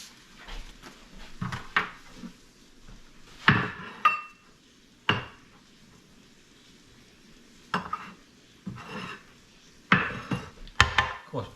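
A metal spatula scrapes burnt oil off a thin metal griddle in separate short, harsh strokes with quiet pauses between them, close and fairly loud, with no talking.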